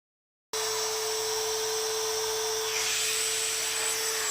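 A rotary tool starts abruptly and whines at a high, steady pitch as its bit cuts notches in a polycarbonate slingshot, with a grinding edge when it bites the plastic. Close and continuous, with no voices.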